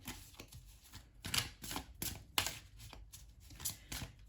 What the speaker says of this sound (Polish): Chwilkę przetasujemy te karty, chociaż już wcześniej tasowałam.